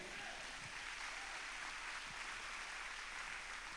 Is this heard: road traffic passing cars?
no